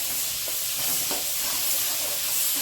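Onions frying in a pan are stirred in a steady, loud sizzle and hiss, with faint scraping knocks from the stirring breaking through the frying noise, close up and with no voices.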